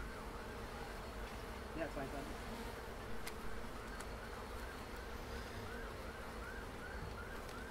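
Honey bees drone in a steady, dense hum from an opened beehive as it is being reassembled, continuous throughout with a brief spoken word briefly over it.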